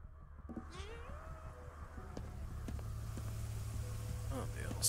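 In the video game Ghostwire: Tokyo, a cat meows with a drawn-out, wavering cry, then a few quieter calls, set against a low ambient rumble that slowly grows louder.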